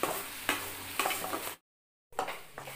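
Jaggery heating in a pan on a low flame, stirred with soft repeated scrapes and a light sizzle, close and quiet, with a brief silent gap partway through.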